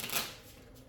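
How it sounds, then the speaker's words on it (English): Arkham Horror Third Edition cards being shuffled by hand at a tabletop, a quick close riffle of papery flutter and clicks that peaks early and then trails into quieter rustling, with no talking. "you will shuffle it"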